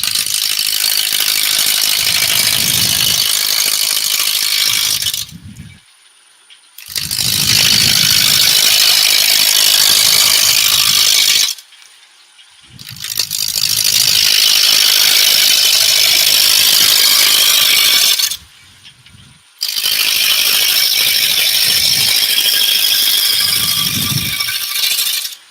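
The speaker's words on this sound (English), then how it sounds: "using the spindle roughing gouge once more. Take it down around." A wood lathe turns a 70 by 70 mm post while a spindle roughing gouge cuts it, a loud, steady whirring, grinding roar in three long passes separated by brief near-silent pauses.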